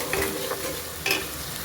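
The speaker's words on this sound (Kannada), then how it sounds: "ಈರುಳ್ಳಿ ಬೇಗ ಫ್ರೈ ಆಗಬೇಕು ಅಂದರೆ ಸ್ವಲ್ಪ ಚೆನ್ನಾಗಿ ಫ್ರೈ ಆಗಬೇಕು" Onions frying in a pan with salt for a fish sambar, giving a steady close sizzle with a couple of louder scraping stirs over about two seconds, no voices.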